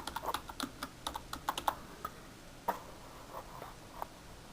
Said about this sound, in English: we'll just type in the word Studebaker